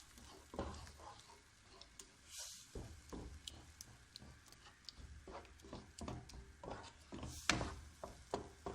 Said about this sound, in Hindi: चम्मच चलाते रहे क्योंकि दो गुठलियाँ न बन जाए।